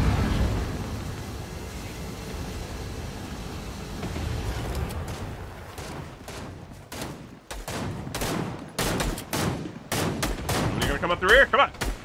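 Video game battle with a rocket launcher and guns: after a rumbling stretch, rapid bursts of gunfire and sharp blasts crackle in quick irregular volleys, loud and close.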